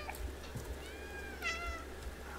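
A cat in the video game Stray meows twice, a soft tonal mew followed by a clearer rising one, fairly quiet and close, with no talking.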